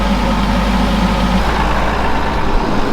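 A Massey Ferguson 6290 tractor engine runs steadily with the PTO engaged, a close, constant low diesel drone with no pauses and no voices.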